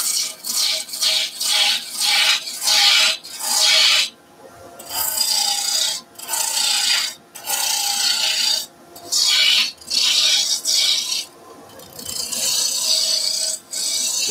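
Woodturning tool cutting a taper on a spinning wooden table skittle, a loud close rasping shear in repeated strokes of about a second, broken by brief pauses.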